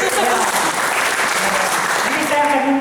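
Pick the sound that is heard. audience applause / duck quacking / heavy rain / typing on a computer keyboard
audience applause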